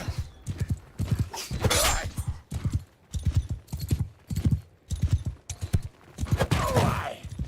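Horse hooves gallop in Mount & Blade II Bannerlord, pounding in rapid, rhythmic bursts of heavy thuds with brief gaps between runs. Some clattering impacts from the game's combat mix in.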